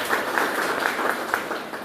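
Audience applause at a products training event, steady and moderately loud, many hands clapping together with individual claps popping out through the wash.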